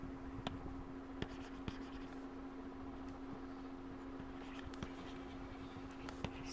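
Pen writing on paper while working a physics problem, faint scratchy strokes with occasional light taps over a steady low hum, no talking.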